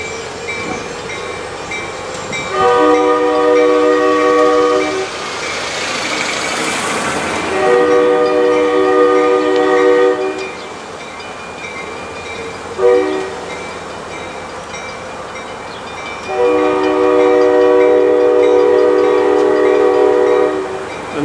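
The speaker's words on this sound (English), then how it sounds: "The train is nearing" A NYS&W freight train running on street trackage in Utica, New York rumbles close by, its horn blaring in three long blasts separated by short pauses over steady rolling noise.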